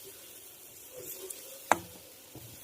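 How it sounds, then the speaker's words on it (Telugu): A spoon stirring boiled eggs into masala paste in a frying pan, giving a faint sizzle with soft scraping and one sharp clink of utensil against the pan. "ఒకసారి కలిపిసుకుందాం"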